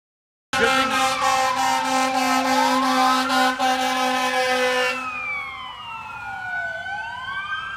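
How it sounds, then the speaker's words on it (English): A fire engine siren sweeps loudly past, its wailing tones rising and falling before dropping in pitch and fading slightly as it moves away, with steady road traffic rumble underneath. "Good thing I started recording as soon as that fire engine went by."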